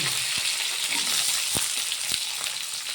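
Onions frying in sesame oil with mustard seeds, cumin, fenugreek and curry leaves for a manathakkali kuzhambu, a steady close sizzle broken by a few sharp spatters and stirring clicks, with no talk.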